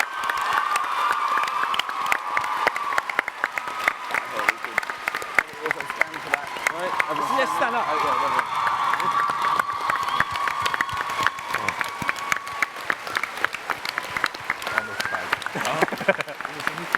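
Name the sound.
audience applause and cheering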